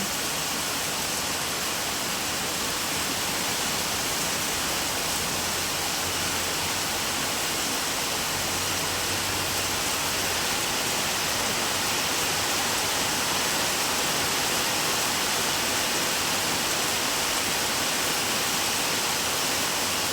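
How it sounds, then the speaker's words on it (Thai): Torrential rain falls heavily on a flooding area, a dense, steady roar of pouring water that stays loud and unchanging throughout with no voices. "วันนี้ตกเยอะมากเลย"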